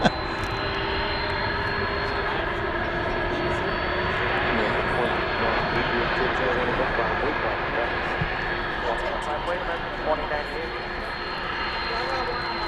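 Jet engines of an American Airlines Boeing 787-8 Dreamliner at DFW Airport roar steadily from a distance, a loud sustained rumble and whine, with people talking over it.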